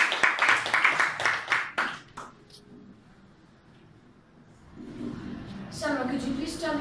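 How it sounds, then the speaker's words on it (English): Children in a classroom clapping for a classmate, a burst of fairly close, uneven hand claps lasting about two seconds before it fades into room quiet, followed by voices speaking. "Last clap for Sunny"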